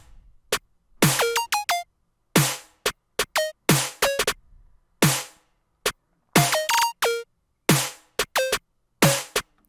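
A melody built from a pitched snare sample in a hyperpop beat: rapid bright percussive hits with tonal ringing tails stepping through different pitches in a bouncy, repeating rhythm, loud and close with no voices.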